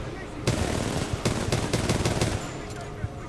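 Gunfire in Titanfall 2, a rapid string of loud sharp shots in bursts that fade into a quieter tail with one last crack.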